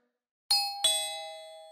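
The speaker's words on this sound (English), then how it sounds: "Was that the doorbell?" A two-tone doorbell chime in the Minecraft video game: two bright ding-dong strikes about a third of a second apart, the second tone ringing out and slowly fading, heard clearly on its own.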